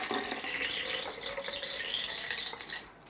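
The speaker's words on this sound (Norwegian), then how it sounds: "fyller jeg på med vann ca. 4 dl." Water pours steadily into a container, roughly 4 dl, mixed with a few drops of fragrance oil for a homemade hair treatment. The close, continuous splashing trickle lasts about three seconds before tapering off at the end.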